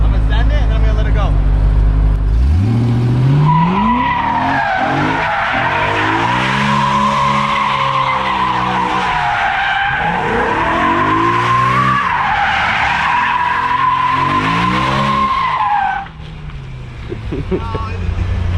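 Tires on a BMW E93 M3 with a DCT gearbox squeal loudly and continuously through a long slide, riding over a revving engine, then cut off abruptly, with people talking over it.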